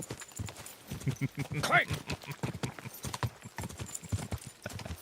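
A horse gallops in the video game Kingdom Come: Deliverance 2, a rhythmic clip-clop of hooves throughout with a player talking over it.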